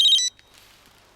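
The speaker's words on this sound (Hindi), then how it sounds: "ये तो फ्रेडिक्स का फोन है" A phone rings with one short, bright electronic burst of trilling tone, loud and clear, then cuts off into near silence.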